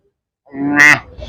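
A single close, loud moo from a Kangeyam cow, rising and lasting about half a second, with no talk.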